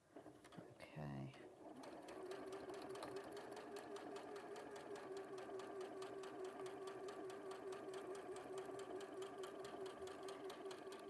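A sewing machine runs steadily at speed in a continuous, rapid, even mechanical chatter with a sustained whirr, close and clear, after a brief bump at the start; voices can be heard faintly alongside.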